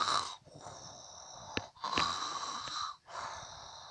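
A human voice imitates a wolf snoring during a Little Red Riding Hood storybook reading, giving three long, breathy, wheezing snores with short pauses between them, close and fairly soft.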